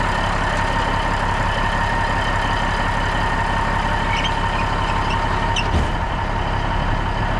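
A Peterbilt truck's heavy diesel engine idles after a very cold start, a steady, loud low rumble with constant mechanical drone and a brief clank near the end.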